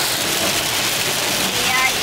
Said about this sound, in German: Jetzt fahren wir nach Hause, es regnet wieder extrem arg.